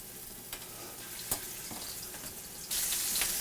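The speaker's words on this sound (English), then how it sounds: "You can hear them start simmering." Meatballs and garlic sizzle and simmer in olive oil in a pan, a quiet steady crackle marked by a few sharp pops, then a louder hiss near the end.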